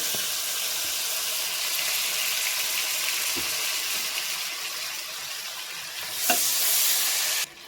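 Tomatoes frying in a pan for tamata pappu, a continuous loud sizzle with occasional stirring scrapes and a sharp knock near the end.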